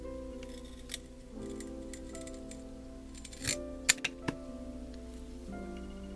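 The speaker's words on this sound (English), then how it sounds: "I'm going to use my miters and I'm going to cut this part off." A hand miter cutter snips through a small wood frame for a miniature craft project, giving a few sharp close clicks and snaps over a faint steady background hum.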